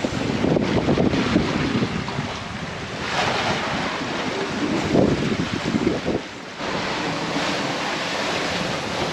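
A sailboat under way on the open ocean in the South Pacific, with steady rushing wind over the microphone and waves washing against the hull, loud and continuous with no voices.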